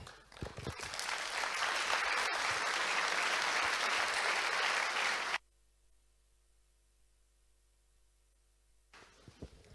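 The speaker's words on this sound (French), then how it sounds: "vous pouvez vous applaudir" A hall audience at a local New Year's greetings ceremony bursts into applause, a thick steady wash of clapping for about five seconds that cuts off abruptly into near silence, with faint stirrings afterward.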